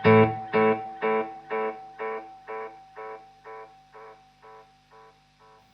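A guitar note played through a TheGigRig G3 pedal preset with a Timeline delay effect: about a dozen rhythmic, decaying repeats that fade steadily, with a faint sustained tone underneath.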